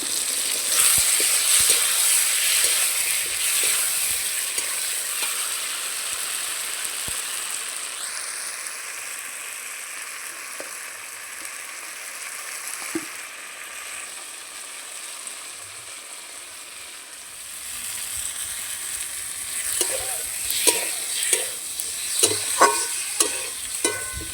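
Ridge gourd and potato fry in a pan with a continuous close sizzle, while a spatula stirs and scrapes at intervals, growing busier toward the end; no one speaks.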